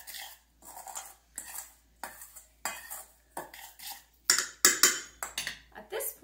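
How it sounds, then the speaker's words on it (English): Flours being stirred together in a bowl for Irish soda bread, a series of distinct scraping and clinking strokes of a utensil against the bowl in an uneven rhythm, close and fairly quiet. "stir it together. Get those flours nice and incorporated"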